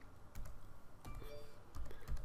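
Typing on a computer keyboard while entering a formula in Excel: scattered quiet key clicks in short bursts, close and faint, with no talking.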